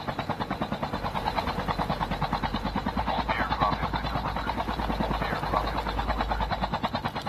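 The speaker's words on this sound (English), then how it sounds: "Get in the chopper." Helicopter in a video game: steady rotor chop with rhythmic pulsing throb throughout, loud and continuous, with faint voices beneath.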